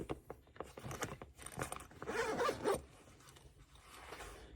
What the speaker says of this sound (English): Okay, there's zipper down all the way.